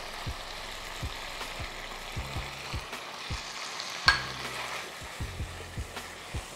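Sazon, chili powder, smoked paprika and cumin are stirred into a smoked queso dip, giving soft, repeated scraping strokes in a steady rhythm over a low sizzle, with one sharper knock midway and no talking.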